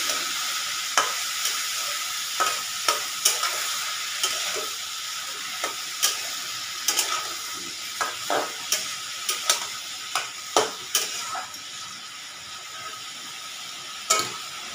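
Bottle gourd (lau) being stirred in a pan with no added water, cooking for a Bengali lau posto: a steady soft sizzle carries repeated scraping knocks of the spoon, close and moderately loud, with no one talking.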